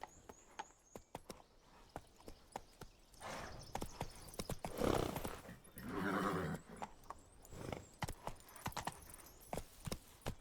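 Roach, the horse in The Witcher 3, with hooves clip-clopping in a quick, uneven rhythm close by, rising to two louder surges of movement midway, with no talking.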